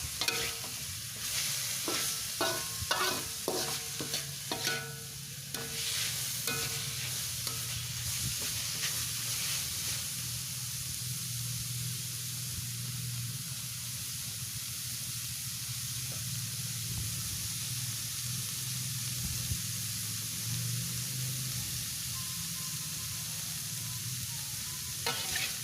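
Cabbage, carrot, onion and chili stir-fried in a wok, a loud continuous sizzle and hiss with busy clattering stirring strokes early on that settle into steady frying.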